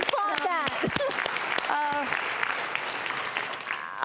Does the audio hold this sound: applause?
yes